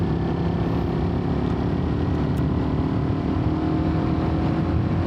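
A Raider 150 motorcycle in eco mode holds a steady, loud, close engine drone at full throttle, a continuous buzzing roar with no breaks.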